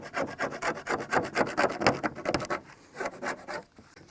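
A plastic scraper rasps repeatedly across a wood-cutting saw blade caked with sappy residue, giving close, rhythmic scraping strokes that slow and thin out toward the end.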